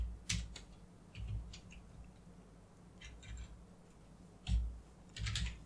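Typing on a computer keyboard: scattered clusters of light keystroke clicks with pauses between them, close and moderately quiet, no talking.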